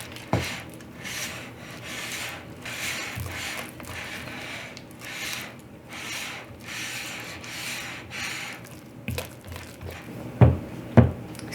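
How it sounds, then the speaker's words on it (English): A spatula scrapes and mixes gluten-free cookie dough with an egg in a bowl, making a steady rhythmic rubbing sound. It ends with a few louder knocks against the bowl, all close and with no talking. "And just mix this till it's really combined."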